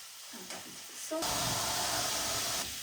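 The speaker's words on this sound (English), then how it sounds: "you're just going to cook your mince so it's nice and brown and it's all broken up" Beef mince browning in a hot pan, a loud steady sizzle that bursts in suddenly after a few soft scraping taps and then holds close and even.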